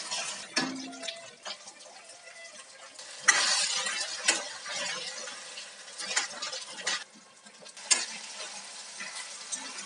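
Boiled, peeled taro root fries in a generous amount of oil, with a crackling sizzle and repeated stirring scrapes and knocks that rise and fall across several seconds, and no voices.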